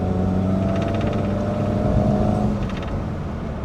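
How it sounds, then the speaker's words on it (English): A Ford Fiesta Mk1 engine roars with a deep, droning induction note that holds steady and then eases off near the end. "listen to the induction roar."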